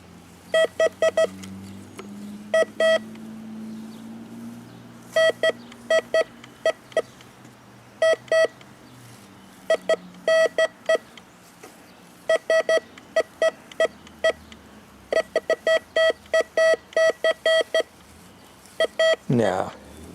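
A metal detector gives repeated short electronic beeps in quick bursts, sounding off on a false alarm with nothing buried, the clusters recurring irregularly while a person talks in the background.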